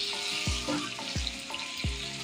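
Lahori restaurant-style chicken karahi sizzling as it fries, a steady crackling hiss with three or four low, sweeping thuds of the pan or ladle, close and without speech.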